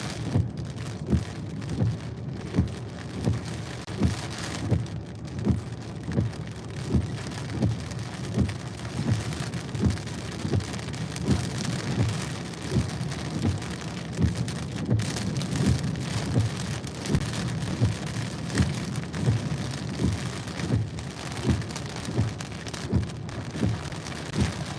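Steady rain pours down during a strong thunderstorm in York County, Pennsylvania, with repeated low rumbles of thunder rolling underneath throughout, no voices heard.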